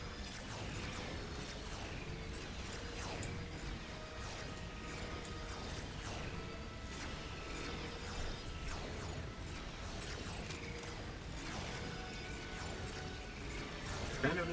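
Evil Genius 2 minions dig and work with flamethrowers and vacuums, making an ongoing clatter of mechanical clanks, ratchety knocks and small crashes at a steady busy pace, and no one speaks.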